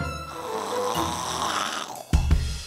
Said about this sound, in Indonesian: Ini anak, suara ngoroknya kayak knalpot motor bebek.